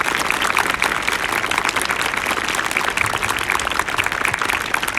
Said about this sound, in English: Can we have another round of applause for all of our students?